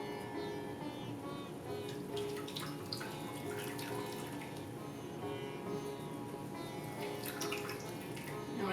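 Water pours steadily into a bowl during paratha dough preparation, a continuous splashing gush heard up close under a light hiss, with no talk over it.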